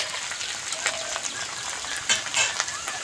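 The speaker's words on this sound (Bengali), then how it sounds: "আলু আর পেঁয়াজটা ভালো করে ভেজে নেব" Potato and onion fry in a pan with a soft, fairly quiet sizzle broken by light spattering crackles and stirring clicks.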